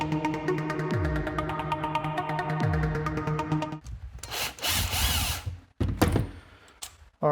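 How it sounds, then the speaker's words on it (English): Impact driver backing screws out of a Makita angle grinder during disassembly, heard as close, loud bursts of rapid hammering whir separated by short pauses, with some tool handling noise. "I'm just going to use a little impact driver just to pull the screws out of it."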